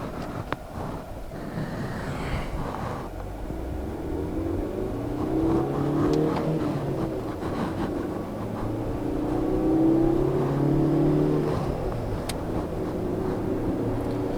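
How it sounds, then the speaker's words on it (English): A Proton Iriz with a 1.3-litre engine and CVT transmission accelerates, a steady engine drone overlaid by a rising, whining transmission tone that climbs and holds across the run, heard from inside the car without talk. "CVT transmission, that it whines when you accelerate the car, which is very typical in a CVT transmission"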